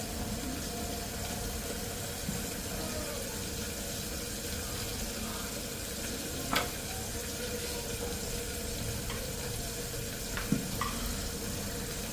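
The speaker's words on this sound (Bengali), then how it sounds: "ফুলকপিগুলি ভাজা হইতে হইতে আমি এখন রুটি কয়টা ভাজা শুরু করে দিই" Cauliflower pieces frying in a pan, giving a steady low sizzle with faint stirring and a few brief clinks, no talking.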